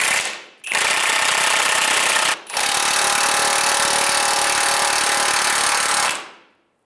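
Impact wrench loosening a 17mm subframe bolt on a 2003-2011 Honda Element, two loud sustained bursts of hammering rattle close to the microphone, separated by a brief pause, alone.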